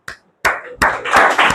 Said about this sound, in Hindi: चलो तालियां बजाओ